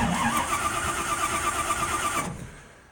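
A rat rod car's engine cranks and catches via a push button starter, running loud and close for about two seconds before cutting off abruptly into silence.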